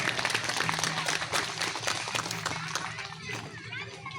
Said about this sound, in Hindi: एक बार जोरदार ताली से इनका स्वागत करें।